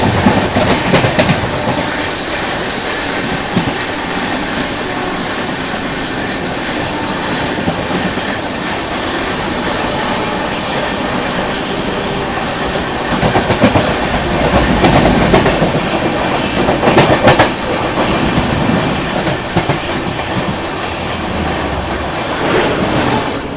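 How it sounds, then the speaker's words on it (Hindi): The CR Rajdhani Express passes the Grand Trunk Express on Indian rails: a loud, continuous rumble and rattle of wheels with rhythmic clickety-clack over track joints, heard from inside the moving train with no talk. "अपनी CR राजधानी ने अपना पहला ओवरटेक किया है भाई, GT एक्सप्रेस को ओवरटेक किया है।"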